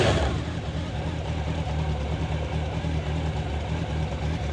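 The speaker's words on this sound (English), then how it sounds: "Starts like a Honda should." A Honda motorcycle engine catches and settles into a steady idle, close by, with an even low rumble and a slight rise as it starts, running alone without talk.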